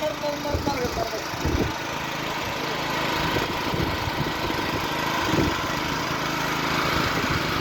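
A motor engine runs at a steady, rumbling idle close by on a building site for a holiday lodge, with people talking over it.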